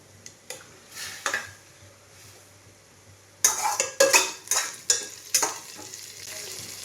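Onion and tomato for biryani fry in a pan: a quiet sizzle and a few light taps, then a run of sharp, rhythmic spatula scrapes as the mixture is stirred close by.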